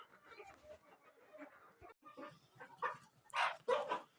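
Adult chickens cluck and squawk close by in short busy bursts as they are fed in a village, with a dog-like yelp or two mixed in.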